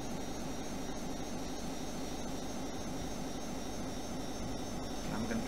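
Aircraft engine droning in flight in the video game Just Cause 2: a steady, even roar with a constant low hum and no breaks, moderately loud and alone without talk.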